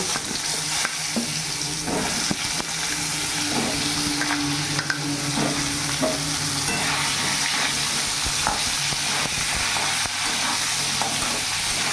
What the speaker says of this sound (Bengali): ওই তেলের মধ্যে পটলগুলোও ভেজে নেব